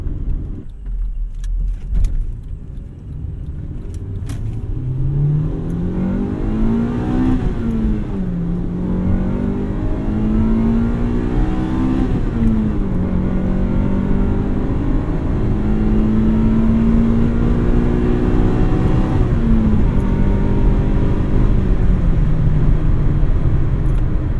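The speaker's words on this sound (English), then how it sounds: "That is the classic Honda sound." A 2000 Honda Civic Si engine revs up through rising, sweeping pitches toward a high-pitched redline, loud and close, with steady rumbling throughout.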